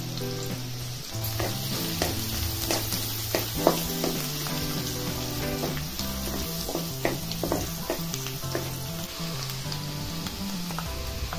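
Onion and cumin sizzling in hot oil with mustard seeds in a pan for a Kolhapuri mixed-vegetable curry: a steady, close frying hiss with scattered pops and crackles throughout, no talk.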